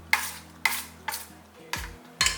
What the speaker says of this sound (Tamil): அது எல்லாமே கலந்து விட்டுறலாம் இதில் நல்லா நைஸாக கலந்துட்டோம்னா நல்லாயிருக்கும்